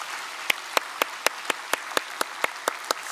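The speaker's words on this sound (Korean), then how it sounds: "박수로 환영하겠습니다." A small church congregation claps during a Sunday worship service, welcoming a new member: about a dozen sharp, evenly spaced claps over a soft background hush.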